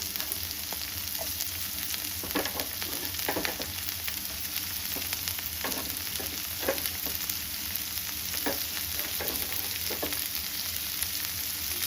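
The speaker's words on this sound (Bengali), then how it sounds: "পেঁয়াজটা ভাজা হয়ে গেছে, এবার আমি এর মধ্যে দিয়ে দেবো একে একে সবজিগুলো" Vegetables fry with onion in hot oil for a biryani-style Maggi, a continuous dense sizzle broken by scattered scraping stir strokes, close and steady throughout.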